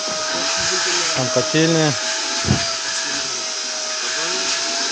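A vacuum cleaner runs with a steady, even whine at an unfinished construction site while someone talks over it close by.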